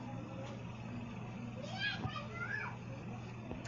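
Noisy crowd of people with children playing and chattering nearby, a steady busy hubbub with a few higher voices rising above it, continuous throughout.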